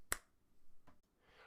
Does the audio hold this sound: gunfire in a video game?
no